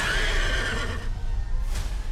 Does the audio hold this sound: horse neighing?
yes